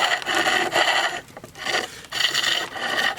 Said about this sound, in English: you can use this flat chisel a bit like a skew, and if you want, you can round things over a little bit.